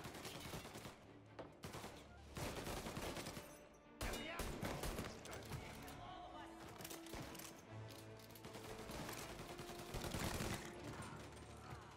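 Gunfire in the video game Mafia Definitive Edition, with dense volleys of shots and rapid bursts crackling over game sounds for several seconds, loud and continuous.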